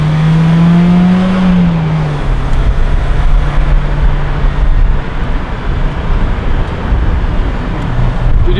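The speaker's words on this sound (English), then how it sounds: "I think I'm gonna go take it for a drive" A car on a test drive pulls away with the engine droning and rising through a gear change, then road and wind noise roar steadily from inside the cabin.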